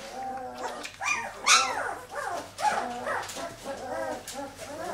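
Young puppies around five weeks old whimper, yip and bark at feeding time, a near and continuous chorus of high squeals and whines with short barks overlapping.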